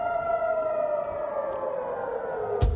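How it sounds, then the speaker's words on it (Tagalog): An air raid siren sounds during a rocket attack in Jerusalem, one long wailing tone that slowly falls in pitch and carries across the area, cut off near the end by a sharp burst of noise. "Dinig din ang sirena sa buong lugar, hudyat na may sasabog na rocket o missile."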